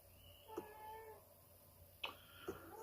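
A cat meows several times indoors, short separate calls spaced about a second apart, faint against a quiet room with no talk.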